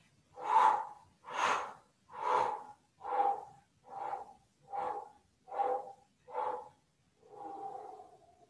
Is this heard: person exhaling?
yes